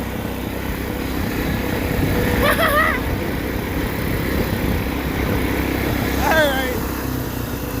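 A Case XC210 lawn mower, revived after sitting unused for more than 15 years, runs with a loud, steady small-engine drone throughout, and a voice speaks briefly over it.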